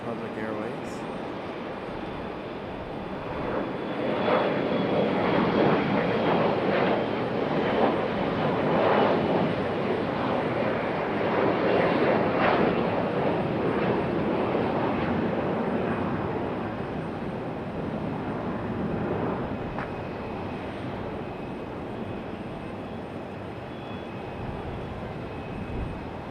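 Republic Airways jet rotating on takeoff at Raleigh-Durham International, a broad engine roar that rises, holds for several seconds and then slowly fades into the distance, with a voice faintly present.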